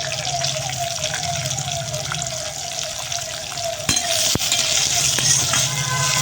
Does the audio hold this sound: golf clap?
no